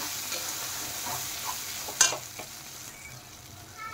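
Spatula stirring fried spice paste into hot oil in a kadai for paneer, with a steady soft sizzle, one sharp scrape near the middle, and a few lighter clinks, close by with no talking.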